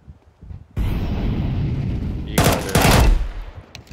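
Rapid gunfire bursts in Counter-Strike 2 on the Dust 2 map, a sustained loud stretch of shots followed by two sharper, louder volleys near the end, with no talk over them.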